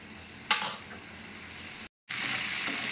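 Spiced pomfret fish masala fries on a medium flame, a steady close hiss of sizzling with a couple of sharp stir scrapes and a brief dropout of sound partway through.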